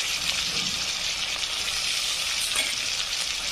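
Chopped tomato and curry leaves fry in a pan for masala pulao, giving a steady, close sizzle with light stirring throughout and no voices.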